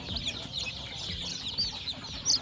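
Rhode Island chicks peep in a steady high chatter of overlapping calls, with a few louder cheeps standing out close by.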